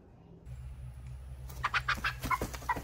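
Backyard hen clucking in a series of short rhythmic calls near the end, close by over a steady low hum, with no one talking.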